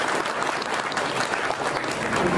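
Sustained, dense applause from an audience at a Nationalist Congress Party minority community gathering in the Khadakwasla constituency, steady and fairly loud throughout with no voices over it.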